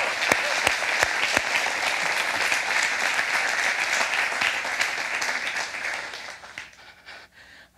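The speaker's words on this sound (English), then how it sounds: "Can we give him a round of applause," A congregation applauds a pastor at a Sunday church service, dense sustained clapping with a few sharp claps near the start, fading out over the final seconds.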